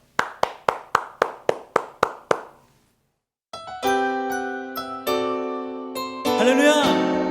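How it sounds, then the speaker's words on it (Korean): Congregation clapping at a Korean church Christmas worship service, eight crisp, evenly spaced claps in a steady rhythm that stop, then a bright chiming keyboard or bell-like music enters and swells. "오늘도 예배 받으실 하나님께 큰 영광의 박수 올려드립시다."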